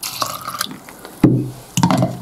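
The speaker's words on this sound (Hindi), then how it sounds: "अब इसमें ऐड करेंगे पानी थोड़ा सा।" Water pours from a tap into a container of soaked rice ready for grinding, a near, gurgling splash in two short bursts with a brief pause between them.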